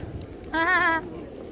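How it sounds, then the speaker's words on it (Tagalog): A single soft, harmonic pigeon coo lasting about half a second, fairly close, with quiet background noise before and after, at Boudhanath Stupa in Nepal. "Guys, ang daming kalapati dito."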